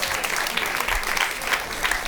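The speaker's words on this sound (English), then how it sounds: "Give them a round of applause," A crowd at a Climate Week discussion event claps steadily throughout, a dense, continuous patter of applause with no pauses.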